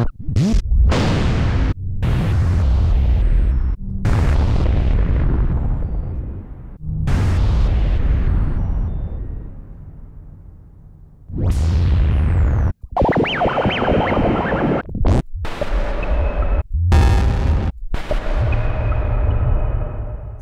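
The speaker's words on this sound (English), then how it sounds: "Let's try an explosion." A series of loud synthesized explosion effects, each a sudden booming burst that decays over a few seconds, with some sharper crackling hits near the end.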